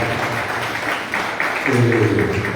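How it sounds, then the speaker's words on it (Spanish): Audience applause at a book-related ceremony in Paraguay, a broad patter of clapping that swells louder in the second half of the burst, with no voices over it. "un aplauso aparte para la señora Vidal de Sánchez"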